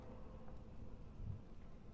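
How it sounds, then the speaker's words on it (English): Lightning bolt spell in Dragon Age: Origins, a low rumbling thunder-like crackle held faintly under game ambience, swelling briefly near the middle. "Lightning bolt."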